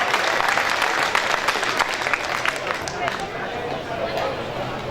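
Spectators at a motorsports expo applaud a pit challenge team, a full burst of crowd clapping with some cheering and background chatter, loud and continuous throughout.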